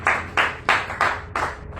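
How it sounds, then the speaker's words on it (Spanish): A church congregation claps in unison, five or six steady, loud rhythmic beats of many hands together, no voices on top. "¿Por qué no le da un fuerte aplauso a nuestro Dios?"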